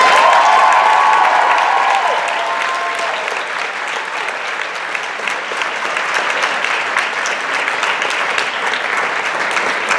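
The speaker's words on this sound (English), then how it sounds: "one more big round of applause for our seniors" Dense, steady applause from a theatre audience for a senior performer after a Music Man production, loud and sustained, with a brief cheer or whoop early on above the clapping.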